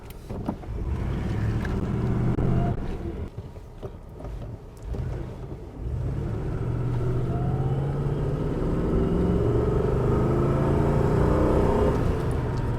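An old Mercedes-Benz S-Class with 648,000 kilometres on it drives and accelerates, a steady low engine rumble and road noise from inside the cabin, dipping briefly near the start before building again and holding level, with no talking.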